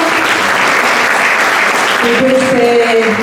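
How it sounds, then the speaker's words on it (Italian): Loud, dense applause from a school audience for the students, a continuous wash of clapping with voices and cheering mixed in toward the end. "Io vorrei fare un grande applauso a loro"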